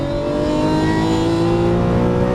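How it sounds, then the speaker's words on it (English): A Lamborghini Aventador LP700-4 at full throttle, its engine a loud, close, sustained roar with strong layered harmonics rising steadily in pitch, no voices. "accelerate out, full throttle, all the way to the left, wind it up"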